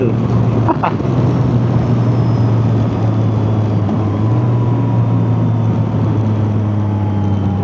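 Yamaha motorcycle on a test ride, Tenere 700 or Tracer 9 GT: continuous loud engine and wind roar at steady speed, with a brief clatter near the start.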